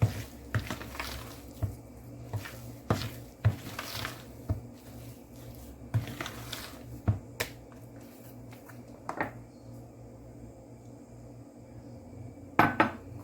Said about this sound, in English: And just mix it right in.